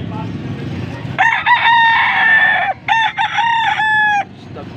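A gamefowl rooster crows twice, loud and near, at a rooster market in Angeles, Pampanga; the two full cock-a-doodle calls stand out over a low murmur of background noise.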